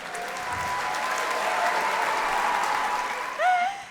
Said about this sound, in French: je voudrais un tonnerre d'applaudissements